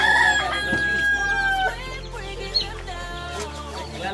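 A rooster crows at a home in a Filipino household, one clear drawn-out cock-a-doodle-doo up close, followed by clucking and background household noise.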